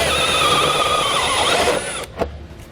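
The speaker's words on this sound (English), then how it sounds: "I'm going to come back at it with an 1 3/8 hole saw." Whirring power drill with a 1 3/8 inch hole saw boring through metal, a steady high grinding whine for about two seconds that cuts off abruptly, followed by a couple of faint clicks.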